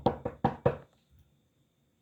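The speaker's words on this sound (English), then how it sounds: "he heard a knock on the door" Four firm knocks on a door in quick succession, close and resonant, followed by near silence and the start of another knock at the end.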